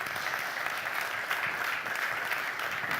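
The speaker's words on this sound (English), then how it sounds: "Please give them an applause." Audience applause after a panel at a media conference, steady dense clapping filling the room throughout without pauses, fairly loud and close.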